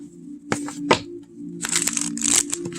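A deck of tarot cards is shuffled up close, a few sharp riffling snaps followed by a longer crisp flurry of cards slapping together.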